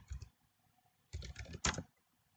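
Computer keyboard typing out a command to start a Django development server, a short burst of key clicks, a pause, then a denser flurry of quick keystrokes ending in a firmer press, close and clear with no talk.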